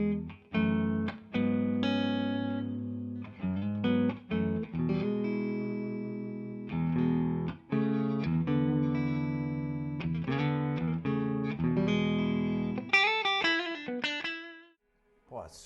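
An Epiphone ES-339 PRO semi-hollow electric guitar plays clean through its coil-split neck pickup, with plucked notes and chords ringing close and clear, then a quick flurry of higher picked notes before it stops.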